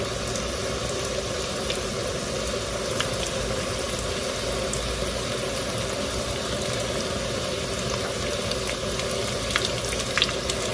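Homemade Indian spiced samosas fry in hot oil that has already been used for a batch, a constant close, loud bubbling sizzle that fills the whole stretch with no talking.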